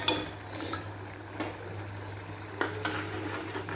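A spoon stirs fresh cream into rajma masala in a pot, making soft scrapes and occasional metallic clinks over a low simmering sizzle, with no voices.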